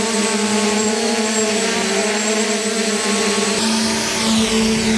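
A budget JJRC X5 quadcopter drone flying in strong wind, its motors giving a steady high-pitched electric whine with several stacked tones that waver and shift in pitch as it is pushed around, continuous and fairly close.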